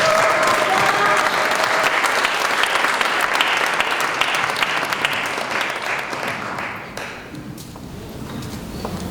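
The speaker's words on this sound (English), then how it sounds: "Can we give her a round of applause?" Applause from an audience at a talk or panel discussion welcoming the moderator: dense, steady clapping that gradually thins out and fades over about nine seconds.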